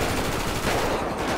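Rapid automatic gunfire in GTA5 crackles in a dense, continuous burst for just over a second, loud and close with no talking.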